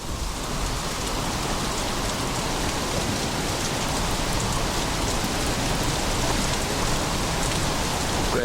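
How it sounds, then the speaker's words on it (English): Heavy rain pours steadily and loudly in a dense, unbroken hiss across the whole stretch, with no voices or other distinct sounds standing out. "Don't stand out in the rain, fool."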